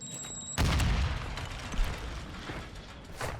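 A pump shotgun fires in Call of Duty: Warzone on the Vondel map: one sharp, loud blast with a short rumbling tail, and a fainter second report a few seconds later.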